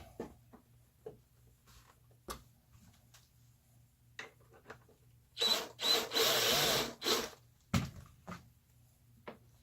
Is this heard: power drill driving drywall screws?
yes